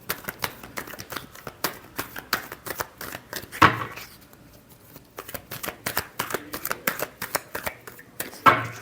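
A deck of tarot cards is shuffled by hand for a Libra weekly reading, giving a long run of quick, close, crisp riffling flicks with brief pauses and a louder slap near the end, with no talking.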